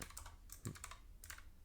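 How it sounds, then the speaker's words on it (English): A computer keyboard gives a few quick, close clicks in two short bursts with a brief pause between them, quiet and without any talking. "we're just going to type in hopefully something that"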